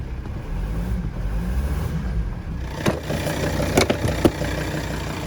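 A Volvo V70 D5 diesel, just fitted with a replacement injector, cranks and catches, settling into a steady low idle with a few sharp bursts as it runs.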